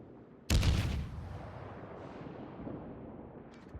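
Warship naval guns firing at a Mutsuki destroyer in World of Warships: one sharp, loud salvo boom followed by a long rumbling decay with faint later thuds.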